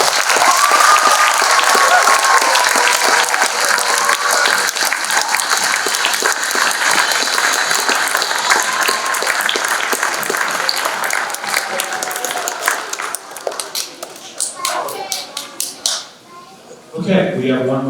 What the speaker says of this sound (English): Please join me in congratulating them and their families with a huge round of applause.